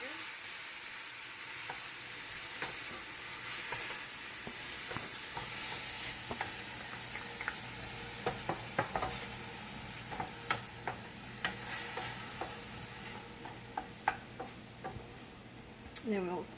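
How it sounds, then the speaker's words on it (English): Meat sizzles steadily in a pan for spaghetti with meatballs after tomatoes are added, with a constant frying hiss and scattered ticks and stirring knocks from a utensil. "We'll go ahead and add our tomatoes."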